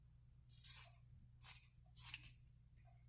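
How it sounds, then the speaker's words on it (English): Scissors snip through fabric and mesh edges while trimming a small sewing project, four distinct crisp cuts spaced about half a second apart over a low steady hum, close and fairly quiet. "go around all the sides, trimming"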